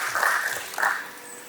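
A conference audience applauding, a brief wash of clapping from many hands that swells twice and then fades, heard at a distance in a large hall.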